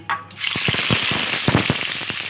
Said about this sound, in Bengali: কিছুটা পরিমাণ তেল, দিয়ে দিচ্ছি ফোড়নের জন্য জিরা আর অল্প পরিমাণ হিং, দিচ্ছি সেদ্ধ করে রাখা আলু